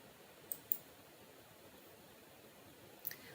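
Two quick mouse clicks on a computer menu, then another pair of clicks about two and a half seconds later, close and crisp over a faint steady hiss with no voices.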